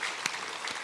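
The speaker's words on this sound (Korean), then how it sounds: "우리 박수 한번 쳐주세요" A church congregation at a Wednesday worship service claps briefly, a soft, diffuse patter of applause lasting under a second.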